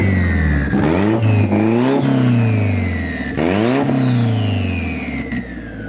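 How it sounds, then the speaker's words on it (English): A Mazdaspeed 6 car engine revs hard up close in two loud rising-and-falling sweeps, with a brief lower rev between, and no talking. "All right, you ready for some revs?"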